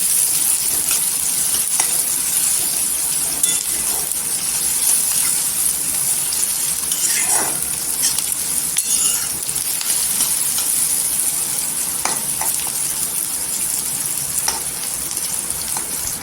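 Onions fry and soften in a pan for a potato rassa bhaji, a steady close sizzle with occasional stirring scrapes running continuously throughout.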